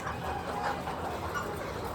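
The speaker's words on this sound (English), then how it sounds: "These chickens are really funny." Farm chickens in a village clucking continuously across two seconds, a steady dense mix of fowl calls at moderate loudness with no talk over them.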